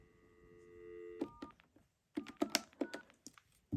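Tone dialing on an RCA 25424RE1-A cordless phone: a steady tone gives way to a brisk, irregular series of short keypad beeps, close and clear, with brief pauses between bursts.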